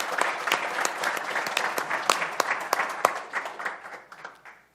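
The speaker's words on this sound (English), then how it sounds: "Big round of applause for the panelists." Audience applause for panelists at a robotics event, lively clapping from a moderate crowd with sharp individual claps standing out, tapering off toward the end.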